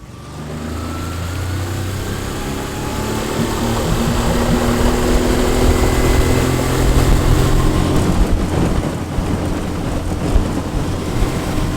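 A small outboard motor driving a homemade DIY jon boat across open water, a steady droning engine that builds as the boat gets up on plane, close and loud, with water rush and no talking.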